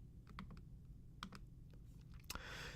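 Keys on a computer keyboard are typed in a quick, uneven burst of light clicks at close range, ending in a slightly firmer press of the enter key.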